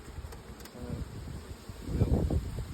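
Buckfast honey bees in a garden hum around a hive as they are moved from a nuc: a continuous insect buzz that swells louder near the end, mixed with light handling noise.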